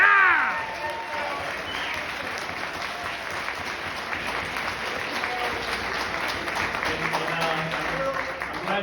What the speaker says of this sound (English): I'm glad to hear a round of applause for that statement.